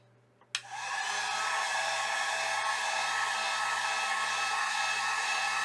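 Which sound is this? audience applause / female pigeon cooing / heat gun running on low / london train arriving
heat gun running on low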